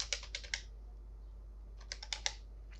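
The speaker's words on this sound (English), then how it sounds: "Then type in your username" Keys on a computer keyboard are tapped in two short quick bursts of close, crisp clicks separated by a pause, over a faint low hum.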